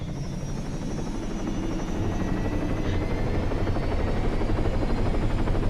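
A helicopter in the Arma 3 game, its engine and rotor building steadily as the throttle increases, a continuous loud whine and thrum that grows slightly louder over the span, with no talking.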